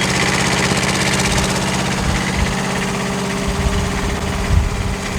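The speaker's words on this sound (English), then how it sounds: "And then we are going to go ahead and start the machine." The engine of a CTE 230-75 spider lift runs at a steady, loud idle close by, a continuous droning rumble with a rapid mechanical pulse and a few low knocks, no voices.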